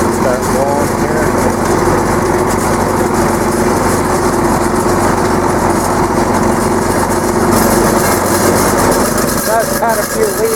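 A tractor running in first gear at about 900 RPM with the TA pulled, a loud, steady engine drone with mechanical rattle that continues throughout.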